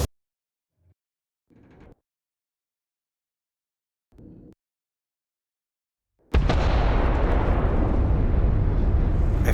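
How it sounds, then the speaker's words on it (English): Explosions in the video game Starfield: a few short muffled bursts in near silence, then a sudden loud, sustained roaring blast that fills the rest of the moment. "I forget about those explosions every time and they catch me off guard."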